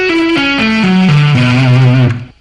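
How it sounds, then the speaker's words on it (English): Distorted electric guitar plays a minor 9 arpeggio with a suspended 4th at a slow tempo, notes stepping down one by one and sustaining before cutting off, loud and alone. "So, at a slow tempo, the arpeggio sounds like this."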